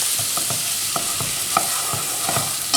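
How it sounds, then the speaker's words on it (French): Butter and flour whisked together in a pan over medium heat for a béchamel, with a steady low sizzle and repeated soft scraping strokes of the whisk at an even rhythm, close and moderately loud with no talking. "à l'aide d'un fouet, je vais mélanger les deux ensemble sur feu moyen"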